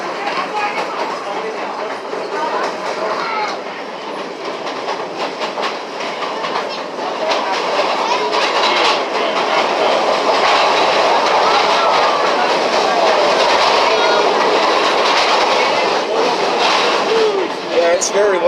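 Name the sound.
passenger train riding through Whiteside Tunnel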